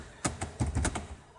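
A computer keyboard being typed on in a few quick clusters of keystrokes, close and fairly crisp, with a short burst, a pause, then a denser run of taps. No voices.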